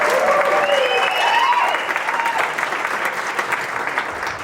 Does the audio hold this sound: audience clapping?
yes